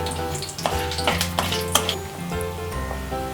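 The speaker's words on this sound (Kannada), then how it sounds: "ಲವಂಗ ಒಂದು 10, ಮೆಣಸು ಒಂದು ಅರ್ಧ ಸ್ಪೂನು ಫ್ರೈ ಮಾಡ್ಕೋಬೇಕು" Cinnamon, cloves and pepper frying in a pan, a close, crackling sizzle with spoon clinks and stirring scrapes over a tonal background.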